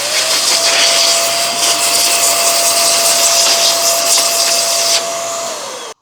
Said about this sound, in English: Next, we'll blow the filter out.